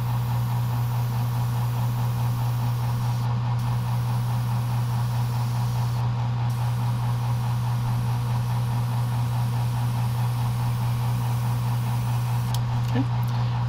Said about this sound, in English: My air compressor is putting out about 13 psi.